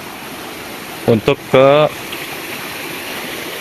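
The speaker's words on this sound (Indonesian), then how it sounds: "Nah ini ada aliran sungai, kita bisa nyebrang sini" A river stream flows beside a mountain campsite near a waterfall, its steady rushing hiss filling the background throughout while a person speaks briefly over it.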